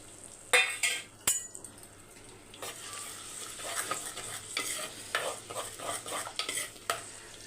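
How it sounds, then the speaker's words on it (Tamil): Garlic frying in hot oil in a pan for a village-style Sankara fish curry, with a steady soft sizzle and a few spoon scrapes and stirs against the pan, close up and with no one talking. "நல்லா பொரியட்டும்."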